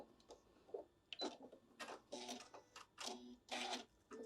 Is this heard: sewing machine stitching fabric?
yes